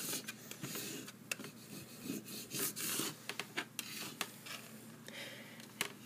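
Card pressed firmly over a single piece of clear duct tape, producing quiet rasping, rubbing strokes with small ticks and scrapes, faint and close.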